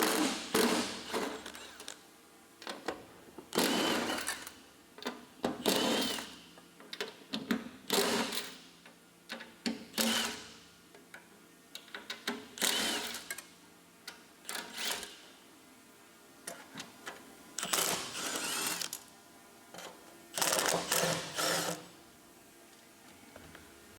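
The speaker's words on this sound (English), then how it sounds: "using a 9/16 socket, you're going to remove all these nuts." A 9/16 socket removing nuts beneath an insulation blanket on a G Series spiral unit, producing irregular bursts of clicking ratchet and metallic clatter separated by quiet gaps, fairly faint and close, with no talk.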